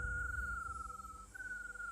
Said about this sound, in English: In between the cicadas, the amphibians, the frogs, and the hundreds of species of birds.